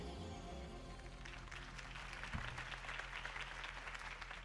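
A crowd in the video game Batman: The Telltale Series breaks into sustained applause that swells after a moment and continues steadily, heard at a moderate distance over a low hum.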